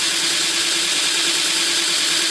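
A belt grinder runs steadily at full loud volume while plunge grinding a bevel on a knife blade, a constant harsh abrasive hiss with a steady whine, close and alone.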